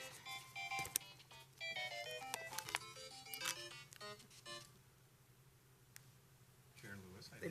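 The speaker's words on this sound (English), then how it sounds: "Now my watch is ringing too." A smartwatch rings with an incoming phone call during a housing and redevelopment authority meeting, playing a quiet electronic melody for several seconds before it stops, over faint room hum and murmur.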